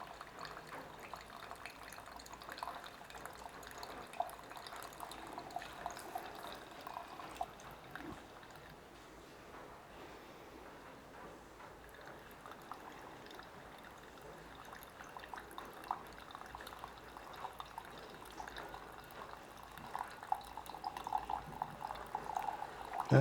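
Coffee dripping slowly from a Cafec Deep 27 pour-over dripper into a vessel below, a soft steady trickle with faint irregular drops, quiet and close with no talk.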